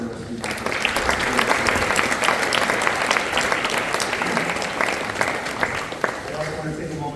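Loud, sustained applause from an audience at a college event introducing a new women's basketball coach, many hands clapping densely and evenly for several seconds, with faint crowd murmur beneath.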